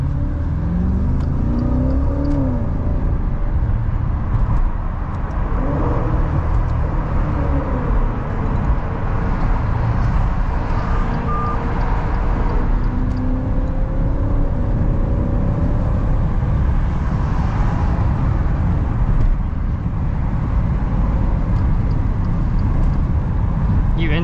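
A Maserati Levante Trofeo SUV accelerates on a road, its engine a loud sustained rumble and rising whir over road noise, with a person talking over it throughout.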